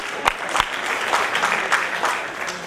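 Audience applause at a Kamal Haasan event for the cinema press association, a dense burst of many hands clapping steadily for a few seconds, fairly loud and close.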